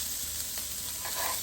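Onions browning in a frying pan give a brief, soft, even sizzle, faint and close, with no voices and no stirring.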